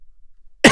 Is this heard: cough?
yes